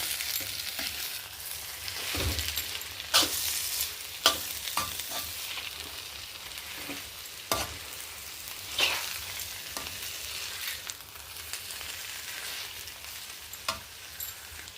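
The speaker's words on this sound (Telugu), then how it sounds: "చివరగా ఒక చిటికెడు మిరియాల పొడి, కొత్తిమీర వేసుకొని తిప్పుకుంటే అయిపోతుంది" Potato curry sizzles softly in a pan while being stirred after pepper powder and coriander are added, with faint scraping taps and a steady fry hiss.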